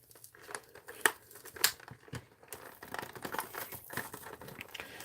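Crinkling and tearing of tape and packaging as a taped-up Hasbro toy box is pulled open, with sharp rips near 1 and 1.6 seconds over steady close rustling.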